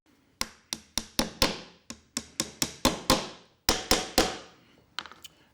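Wooden dowels are driven into glue-filled holes with about fifteen sharp, close taps in quick irregular bursts, each strike ringing briefly before the next.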